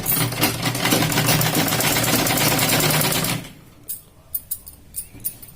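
A sewing machine stitches a blouse, a loud, close, steady whirring run that lasts a few seconds, then stops and leaves a few light clicks and handling sounds.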